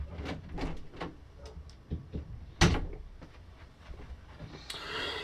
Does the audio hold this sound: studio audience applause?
no